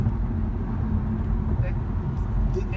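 A 2017 BMW 540i (G30) accelerates smoothly on a highway, giving a steady low engine and road drone with tire noise, while a person talks over it inside the cabin.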